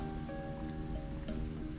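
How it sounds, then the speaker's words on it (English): Water is being changed in a pot of meat being washed for balbacua, giving soft close sloshing, dripping and squishing sounds, fairly quiet and irregular, with no talking. "wash this one, we will change the water"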